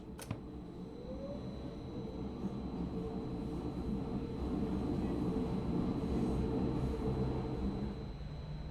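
Subway train in the game Subway Simulator 2 pulling away, a steady rumbling drive with rising whine that grows gradually louder over several seconds, no talk, after a brief sharp click at the start.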